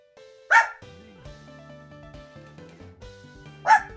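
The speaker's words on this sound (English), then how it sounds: "I have to like keep him in this room so he doesn't bark at the neighbors until Emily gets back." A dog barks twice, sharp and close, a few seconds apart, over soft game music from Pokemon HeartGold.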